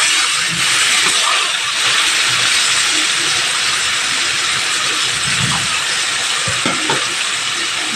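Taro leaves (kochu shak) hit hot oil already seasoned with dried red chilies and bay leaves, raising a loud, steady sizzle and hiss of frying that holds throughout with faint stirring clinks.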